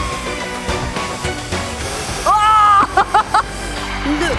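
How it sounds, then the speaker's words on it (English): Rushing water spraying hard from a firefighting hose, a loud continuous hiss and splash, with brief whistling tones cutting through partway. "Look how fast the water is coming out of the hose."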